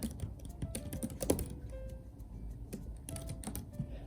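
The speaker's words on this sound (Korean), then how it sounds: "과연 타이핑을 할 수 있을 것인가?" Rapid clicking taps on a small, compact iPad keyboard, close and continuous with irregular rhythm and occasional louder keystrokes, no talking.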